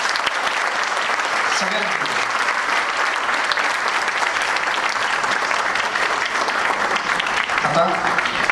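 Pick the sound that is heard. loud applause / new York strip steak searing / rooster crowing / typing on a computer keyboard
loud applause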